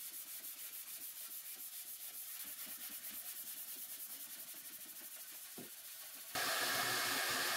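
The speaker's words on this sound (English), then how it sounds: "Then sand smooth and vacuum the dust off before priming." Sanding a wooden china cabinet whose nail holes and joints were filled with Bondo glazing putty: steady rhythmic rubbing strokes, close and continuous, ending in a louder broadband hiss.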